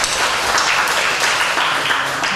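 Church congregation applauding a temple benefactor during a Sunday worship service, a dense steady wash of many hands clapping at close range that fills the whole stretch with no voices.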